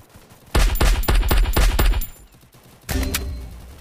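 Rapid bursts of automatic gunfire in the video game Free Fire, several close loud volleys in quick succession, then a pause before another short burst.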